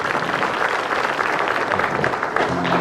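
A studio audience at an Indonesian comedy show's hypnosis segment applauds, a continuous dense wash of clapping heard fairly loud, with a faint low hum entering near the end.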